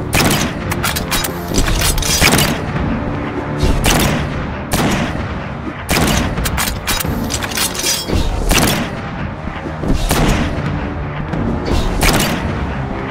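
Heavy, booming shots from a shotgun-like gun in Rec Room go off one after another, a loud irregular volley with mechanical clatter between blasts.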